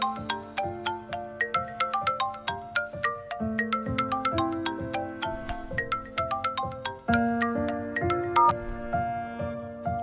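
A phone ringtone plays a bright, repeating chiming melody over a steady pulsing bass line while a call goes through, loud and unbroken for the full stretch with no voices.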